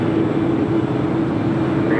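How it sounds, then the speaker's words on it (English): A Turkish Airlines Boeing 787-9 Dreamliner takes off at LAX, a loud, steady, broadband jet roar with deep rumble that fills the whole moment, close and sustained. "Turkish Airlines Flight 180 heading back to Istanbul in a 787-9 Dreamliner"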